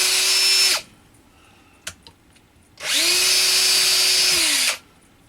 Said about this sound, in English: It's surprising actually how hard I have to push into this wood, even with this drill bit.